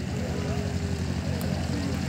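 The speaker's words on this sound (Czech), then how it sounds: "Tak letoun Turbulent tam odstartoval, podíváme se, jestli už se bude blížit. Už letí." A small yellow Turbulent light propeller aircraft, built in France in 1956, drones at an airfield museum event, a steady faint hum under broad outdoor noise with no clear pass-by swell.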